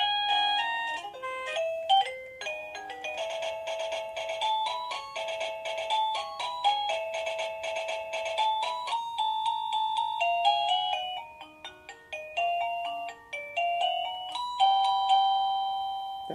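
Roybens musical doorbell chime playing a bright electronic melody of clear, evenly paced tones, continuous and moderately loud with no voices.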